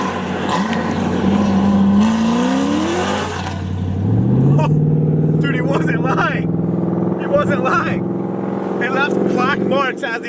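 A supercharged C6 Corvette with a 454 LSX engine and YSI blower, making over 1,169 wheel horsepower, accelerates at quarter throttle, its loud engine note climbing in pitch twice while people talk excitedly over it.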